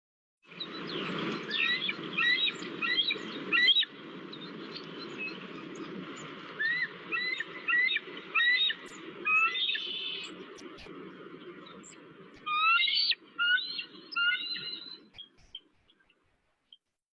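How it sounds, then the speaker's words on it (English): A bald eagle gives a series of high, thin chittering calls, short squeaky bursts repeated in rapid runs with brief pauses, fairly clear against a quiet background. "Bald eagle."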